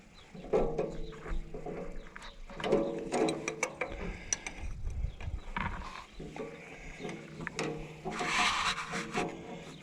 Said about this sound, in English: I'll get in there with the longest wrench I own